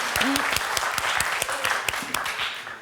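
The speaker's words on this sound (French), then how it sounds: "Là, j'applaudis" Studio audience applause on a French television quiz show, a dense run of claps with a few sharp individual hits and brief voice tones over it.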